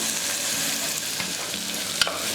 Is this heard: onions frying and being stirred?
yes